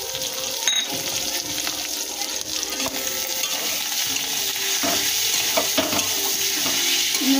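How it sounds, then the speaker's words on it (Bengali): Spice paste and chopped tomato frying for a crab curry, a loud, close sizzle with scraping and stirring clatter and some watery bubbling, continuous throughout without talk. "ভালো করে কষিয়ে নেব। টমেটো কুচিগুলো দিয়ে দেবো।"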